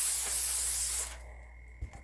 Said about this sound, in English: I use extra virgin olive oil spray.